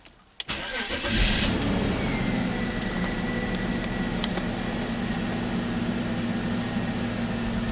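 A BMW X5 cold engine cranks after a click and catches within about a second, then settles into a steady, loud idle hum heard close up, with no talking.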